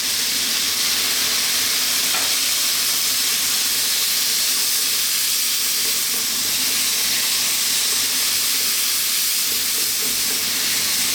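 Chicken fried rice sizzles loudly and continuously in a hot pan right after light soy sauce goes in, a dense steady hiss and steam with stirring, close up and with no talk.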